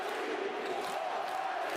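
Arena crowd at a Bulgaria vs. Latvia basketball game roaring and cheering for Bulgaria, a steady, dense wall of distant voices with no break.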